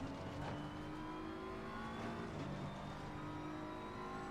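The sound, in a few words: race car engine accelerating at full throttle, Assetto Corsa Competizione video game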